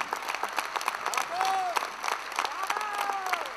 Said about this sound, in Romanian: aplauze pentru Jeni